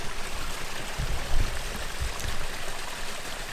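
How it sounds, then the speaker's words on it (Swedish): Steady rushing of water from a small waterfall or stream, close and continuous, with a few low thumps mixed in. "Lite vattenfall."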